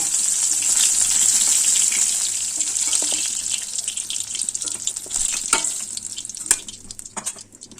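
Rohu fish frying in hot oil in a pan, a steady bright sizzle that loudens, then thins into crackles and pops near the end, with no talk over it.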